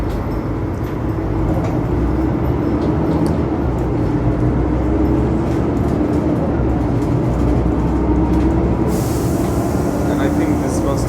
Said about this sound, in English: this bus doesn't have very loud howls actually compared to some other buses I rode